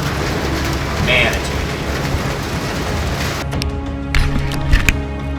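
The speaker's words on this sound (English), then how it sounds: "it's windy. The weather is not on my side" Strong storm wind gusts and roars across an exposed alpine slope in New Zealand's Alps, a loud broadband rush that eases slightly toward the end, with a few sharper buffets.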